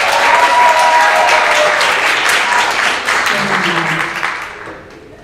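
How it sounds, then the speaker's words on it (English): Audience applause for a jazz performer with a big band at an arts center concert: sustained, dense clapping from a full room, loud at first and then gradually thinning and fading out. "Let's have a round of applause"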